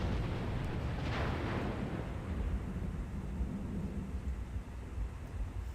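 Rumbling thunder from a lightning strike in The Sims 2, a broad low roll that swells early and then fades into a steady dull background rumble.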